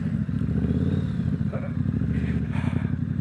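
A Triumph Street Scrambler motorcycle ridden off road over a small dip, its engine a steady, close, loud rumble with clattering and scraping from the rough ground, no speech.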